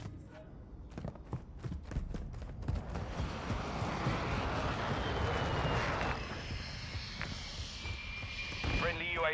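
Enemy UAV aircraft passing overhead in Call of Duty, a steady droning engine roar that swells and holds throughout, with sharp clicks and a rising whine late on, while a voice speaks over it.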